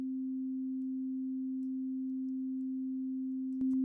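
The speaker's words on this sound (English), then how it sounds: "now we can hear a basic tone coming from our oscillator" A steady, pure synth tone from a Reaktor 6 oscillator holds evenly and alone for several seconds, then is cut by a couple of brief clicks at the end.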